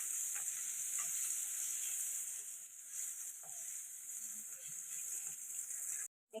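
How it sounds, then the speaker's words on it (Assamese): Chopped onion and ginger frying in a pan with five-spice seeds for an egg curry, a steady soft sizzle with faint stirring scrapes, close and alone before a brief cutoff at the end. "এইখিনি অকণমান কালাৰ অহালৈকে অকণমান ভাজিম।"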